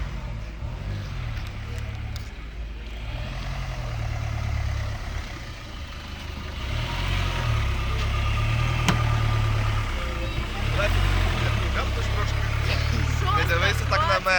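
Engine of a loaded vehicle heading to the front line, a steady low rumble that swells and eases throughout, with people talking over it.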